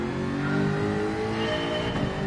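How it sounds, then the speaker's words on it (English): A race car engine revs steadily at high pitch in Gran Turismo 7, a continuous loud mechanical drone that swells slightly and holds without pause. "I don't know if I fully revved this car out or not."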